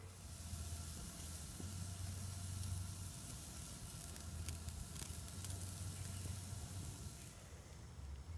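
Steaks burning in a hot pan give a steady, dense sizzle that holds at an even level throughout, with no voices over it.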